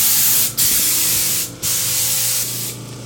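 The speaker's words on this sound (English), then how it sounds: "We're gonna take our super convenient air compressor to blow everything towards our super convenient" Air compressor nozzle blasting hair clippings in a barber suite, a loud, close continuous hiss of rushing air broken by two brief dips as the trigger is released and pressed again.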